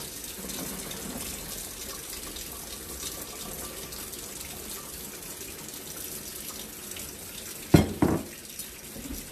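Tap water runs in a steady, quiet hiss, followed near the end by a couple of louder splashing clunks as something is rinsed.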